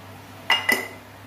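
Two quick metallic clinks of a spoon against a cooking pot while salt is added to raw mangoes boiling for mango jelly, close and distinct, the second a little louder, over a quiet hum.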